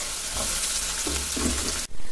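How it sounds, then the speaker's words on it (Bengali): Potatoes frying in oil for breakfast, a dense close sizzle with bubbling and crackle that cuts off abruptly near the end, no talking. "তাই জন্য হচ্ছে এখন ভাজবো আমি আলু।"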